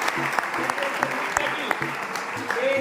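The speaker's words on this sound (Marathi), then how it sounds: "आपण आपल्या अकॅडमीच्या वतीने एकदा टाळ्या वाजवून त्यांचं स्वागत करूया" An academy audience at a youth parliament event at a junior college applauds to welcome a guest, a steady spread of clapping throughout with a voice speaking over it.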